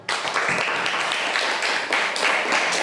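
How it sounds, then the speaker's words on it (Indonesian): A classroom of students claps for a presenting group, dense close applause that starts abruptly and keeps going with slight surges and no voices over it. "Tepuk tangan untuk kelompok 1."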